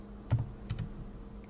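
A few quiet, separate key clicks are tapped out on a Mac keyboard while a command is typed, with no talking.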